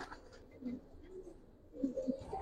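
Old-breed Giribaz pigeons give soft, low coos in a couple of short bursts, faint and close against a quiet room background.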